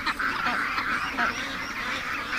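A group of ducks coming out of a barn quack in a busy overlapping chorus, close and steady throughout with no talk over them.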